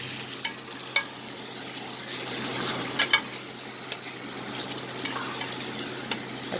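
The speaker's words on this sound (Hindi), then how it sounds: "अच्छे से मिक्स कर लेते हैं दही डालने के बाद" Chicken karahi, Pakistani style, is stirred in a sizzling pan after yogurt is added, a steady frying hiss broken by sharp scattered clinks of the utensil against the pan, close and without speech.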